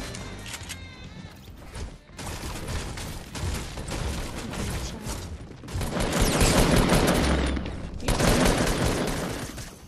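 Rapid video-game gunfire, including shotgun blasts, sounds in dense, loud volleys that pause briefly and then resume, with the heaviest burst in the latter half.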